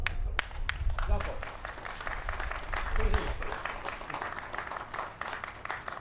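Applause from an audience at a brass band concert, a dense run of claps lasting several seconds, steady and fairly loud with bright scattered hand strikes.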